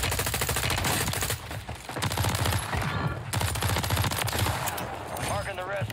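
Gunfire in Call of Duty Warzone on Rebirth Island, rapid shots rattling through a busy mix while people talk over it throughout, steady and fairly loud with short dips.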